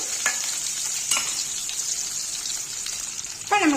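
Onions sauté in a pan for a banana flower curry, a constant sizzle with a few louder stirring scrapes and one sharp crackle toward the end, heard close with no talk.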